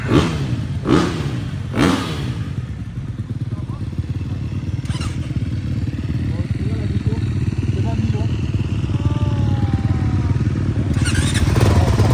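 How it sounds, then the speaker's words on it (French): Dirt bike at a supercross track in Lyon runs with a steady, loud engine drone close by, punctuated by a few sharp revving bursts near the start and again at the end. "Bah Cindy et sa moto hein."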